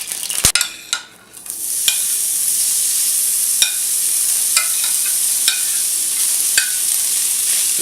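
Cooked beef tongue taco meat frying in a pan, a bright continuous sizzle with repeated sharp scrapes and clacks of stirring, close and clear with no talking.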